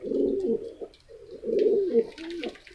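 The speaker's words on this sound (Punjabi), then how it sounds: "ਇਹ ਨੇ ਵੀਰ ਦੇ ਕਬੂਤਰ" Domestic pigeons kept for a Dussehra flying competition in Ludhiana coo softly at close range in two low, throaty rolling phrases, with faint background noise.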